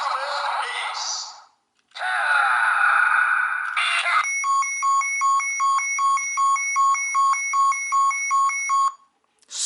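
Electronic sound effects play from a DX G.U.T.S. Hyper Key Ultraman Ace toy: two loud sustained tones, then a rapid, piercing blinking beep that pulses steadily for about five seconds before cutting off.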